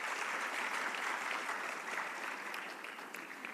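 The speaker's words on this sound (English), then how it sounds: "So please, another round of applause for our governors." Applause for the governors at an African investment summit, a broad, continuous clapping crowd heard at moderate distance that gradually thins toward the end, with no voices over it.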